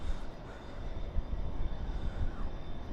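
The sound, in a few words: China Airlines Cargo plane starting its engines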